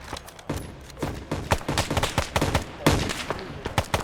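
Rapid bursts of BAR automatic rifle fire in a video game battle, loud and close, with several quick strings of shots and brief pauses between them.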